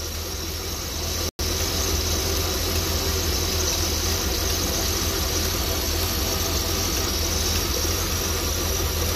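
An RV engine idles steadily with a constant low rumble and broadband hum, broken by one very brief dropout.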